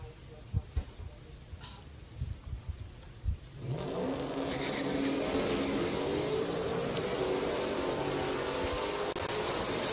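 A Dodge truck and a 2003 Mustang launch at a drag strip, the engines rising into a sustained loud roar after a few seconds of quieter idling and rumble, heard from a distance.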